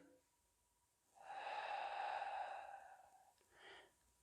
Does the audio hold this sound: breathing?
yes